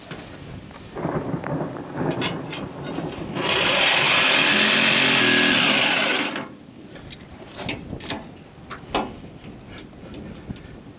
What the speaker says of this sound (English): it is raining, so I'd like to get this done as soon as possible